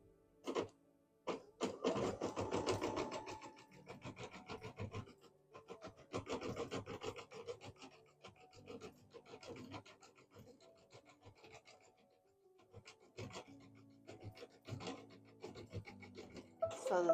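A sewing machine running decorative stitching, a steady rapid mechanical chatter that pauses and restarts several times, fairly close with no talk.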